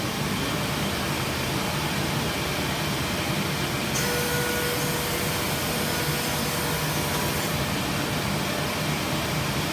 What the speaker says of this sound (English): Got to put on the dust collection.